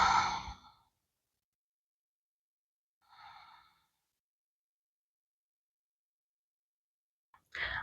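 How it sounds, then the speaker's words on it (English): Deep breaths during a yoga session in mountain pose: a long exhale at the start, a second breath mid-clip and another beginning at the end, with silence between them. "Take a few deep breaths."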